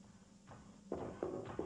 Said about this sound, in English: Listen, those footsteps. They're coming from below us.